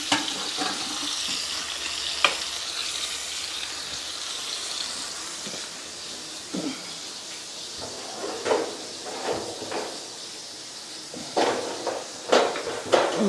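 A rib eye steak sizzles in an iron skillet with a steady frying hiss up close, punctuated by scattered clinks and pan knocks of cooking utensils.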